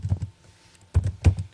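Keys on a computer keyboard are struck in two short bursts of quick taps separated by a pause, close and fairly loud, with no speech.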